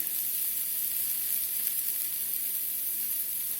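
Eggs frying on a hot flat-top griddle give a steady, even sizzle and hiss that runs without a break, close up, with no voices.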